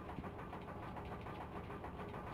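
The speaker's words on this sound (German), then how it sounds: "Wenn wir näher ranfliegen, dann überhitzt uns doch der Motor." An airship engine in the Final Fantasy IX video game drones near a volcano, a faint, steady mechanical rumble that runs evenly without a break and has no voices over it.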